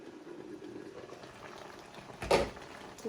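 Pork belly stew simmering in a covered pot, a low continuous bubbling with a brief louder rattle or clunk near the end.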